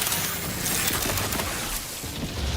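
Gunfire in The Outer Worlds 2, a dense run of shots packed together with a steady, loud, full-band texture across the whole stretch.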